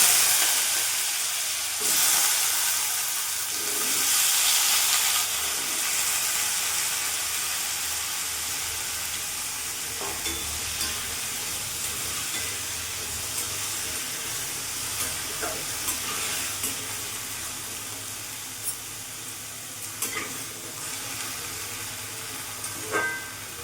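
Cut potatoes drop into hot oil with fried panch phoron spices and a broken dried chilli, starting as a loud, bright sizzle that settles into a quieter steady hiss with occasional pops and clinks.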